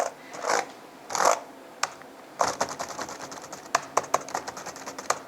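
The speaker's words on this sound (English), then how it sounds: "So I'm typing a lot of things" Laptop keyboard typing, near and clear: a few scattered keystrokes and soft rubs at first, then a steady run of quick irregular key clicks.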